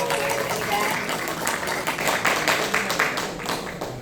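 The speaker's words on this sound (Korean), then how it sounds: "박수 부탁드리겠습니다" Applause from a talk-show audience greeting a parliamentary candidate, a steady patter of many hands clapping at a fairly low level, continuous throughout without speech.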